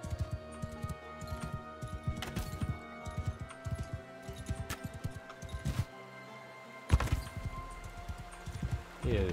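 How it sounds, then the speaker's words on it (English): Horse hoofbeats in Mount and Blade: Bannerlord, a quiet clip-clop with irregular thuds and some clinks, with speech in the background. "horse jump and arrow shot"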